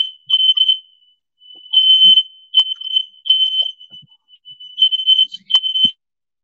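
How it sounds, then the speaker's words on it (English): Fire alarm going off indoors, loud shrill high-pitched beeps in uneven bursts with short gaps, sounding alone with no talking. "Had a fire alarm go off."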